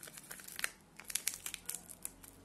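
A Starbucks cappuccino premium coffee mix packet being torn open at its notch, a quick run of close, crisp crinkling and ripping plastic sounds, quiet overall with no voices.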